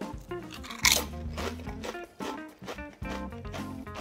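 Pizza-flavoured Bret's potato chips crunch loudly between the teeth in one sharp bite, then in a run of close, steady chewing crunches.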